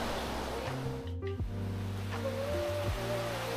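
A stream of hot spring water at Kusatsu Onsen in Gunma runs down from the mountain with a close, steady rushing flow, joined by a low tonal hum.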